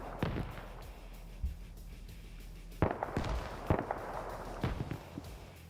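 Grenade blasts in an online USA-versus-USSR multiplayer military shooter: several sharp, separate bangs spaced a second or so apart over a low background rumble.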